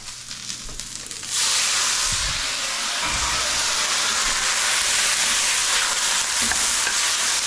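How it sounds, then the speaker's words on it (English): A quiet moment, then a sudden loud sizzle as a splash of water hits dry broccoli in a hot stir-fry pan, followed by a steady hiss of steam and crackling that continues. "Broccoli is pretty dry, so I'm going to just add a quick little splash of water."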